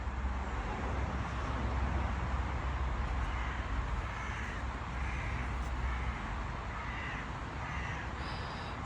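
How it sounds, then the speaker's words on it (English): Several crows caw in a loose series of harsh calls, fairly distant, over a constant hum of wind and road traffic in a historic churchyard. "Can you hear the crows?"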